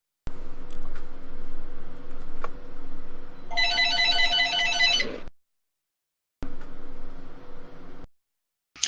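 A telephone rings in a bright, warbling electronic burst of about two seconds, cutting in over a steady background hum from a game session, followed by a pause and then the hum returning.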